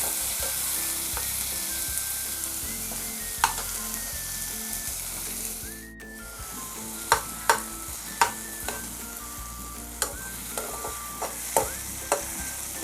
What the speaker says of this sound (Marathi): टोमॅटो थोडंसं शिजवून घेऊया.